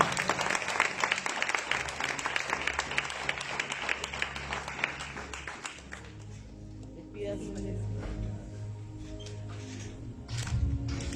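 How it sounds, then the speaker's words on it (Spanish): A church congregation applauds for about six seconds, dense and steady, with voices and music continuing as the clapping fades. "Un aplauso al Señor."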